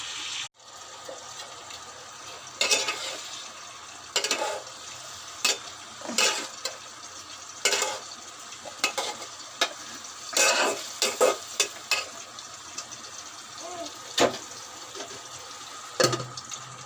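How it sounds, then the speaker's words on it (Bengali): Potatoes fry in oil in a pan with a steady sizzle, broken by repeated scraping stirs of a spatula, close and fairly loud, with no speech. "আলু ভাজা হয়ে গেছে, এখন মাছগুলো দিয়ে দেবো।"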